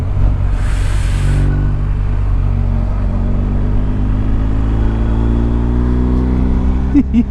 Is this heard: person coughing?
no